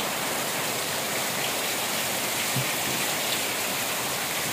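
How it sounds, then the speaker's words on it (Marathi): Heavy rain pours down outside in a loud, unbroken hiss that stays dense and steady throughout, with no voices over it. "पाऊस पण एकदम जोरदार चालू आहे बाहेर."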